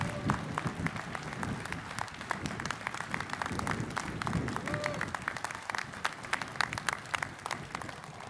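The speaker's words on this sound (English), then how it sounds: "join me in a great round of applause for all the men and women standing behind me" Outdoor audience applauding at a topping-out ceremony for a new city building, a sustained round of many hands clapping at a moderate distance, dense and even throughout.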